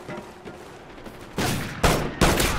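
Gunfire in a first-person shooter game: a steady crackle of shots, then three loud broadband bursts in quick succession near the end, with no talking.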